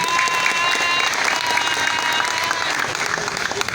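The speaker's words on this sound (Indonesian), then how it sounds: "tepuk tangan untuk mahasiswa-mahasiswi" Crowd applause for university students at a political gathering, a steady roar of many hands clapping with faint crowd noise and a thin tonal hum beneath it.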